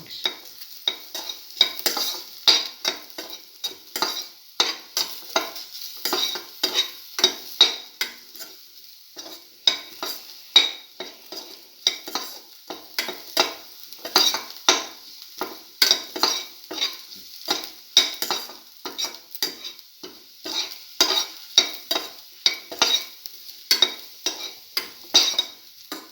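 A garlic mashed potato stir fry with cinnamon gets stirred in a pan, producing rhythmic, repeated scraping and soft sizzle strokes, close and steady for about half a minute with no voices.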